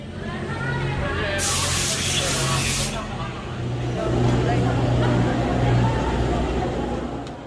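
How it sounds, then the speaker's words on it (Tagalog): Disinfectant spray hisses in a loud, close burst lasting about a second and a half as workers sanitize cable cars at a Busan station, over steady mechanical hum and background voices. "After getting down, they sanitize the cable cars and sides with some sort of spray."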